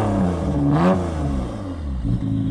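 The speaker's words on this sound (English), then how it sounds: "gonna rev it up for us" At a JDM car meet, a Z3's engine revs up loud and close in one rising burst, dips, then swells again, with a rough mid-pitched growl throughout.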